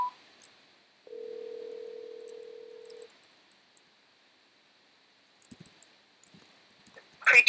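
A telephone call is placed: a steady electronic tone runs for about two seconds, followed by quiet and then scattered soft clicks and small line noises near the end.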